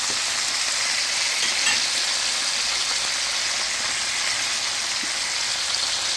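Green bell pepper and other vegetables frying in a pan, a close, steady hiss and sizzle that runs throughout, with faint stirring sounds underneath and no talking.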